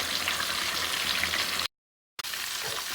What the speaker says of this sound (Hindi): इन पीसेस को डाल देंगे और धीमी आंच पर फ्राई करेंगे